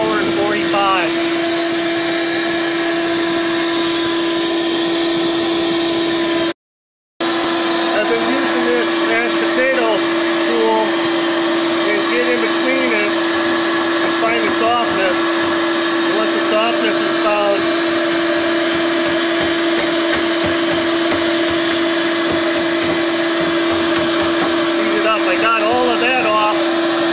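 A Shop Vac runs continuously close by, blowing its exhaust air to defrost a freezer, with a constant loud whine and hum broken by one short cut in sound while a voice talks over it throughout.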